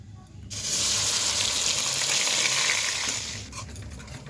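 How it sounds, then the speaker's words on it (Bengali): Ginger and green chilli paste hits hot oil in a pan and bursts into a loud, bright sizzle after half a second, holding steady for a few seconds before easing off. "এবার আমি তেলের মধ্যে দিয়ে দিচ্ছি যে আদা আর কাঁচা লঙ্কা যে পেস্টটা আমি করে রেখেছিলাম মিক্সিতে, সেই পেস্টটা আমি দিয়ে দিচ্ছি"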